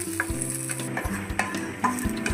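Green chillies and garlic roast in a hot pan, a steady loud sizzle with a spoon stirring and scraping the pan every half second or so, close by and without talk.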